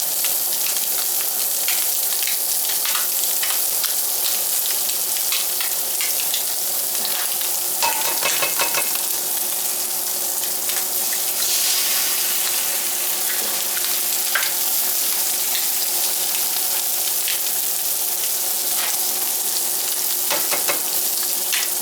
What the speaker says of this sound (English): give me room to cook the eggs in the middle there